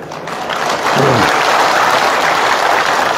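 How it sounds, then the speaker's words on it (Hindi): Loud, dense applause from an audience at a political training camp, a continuous wash of clapping that swells and holds steady for about three seconds. "आप सब लोग जोरदार ताली बजा रहे थे"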